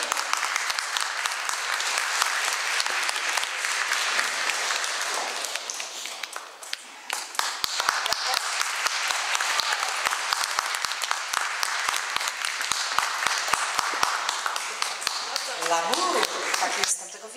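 Concert audience applauding in a hall during a program of songs, dense sustained clapping filling the whole stretch, loud and close, with a voice briefly emerging near the end.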